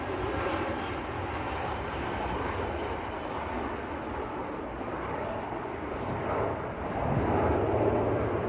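A 17-year-old British Airways Airbus A320 bound for London Heathrow taxis at Manchester Airport, its engines producing a steady, broad jet roar and rumble that swells slightly toward the end, fairly close, with no voices.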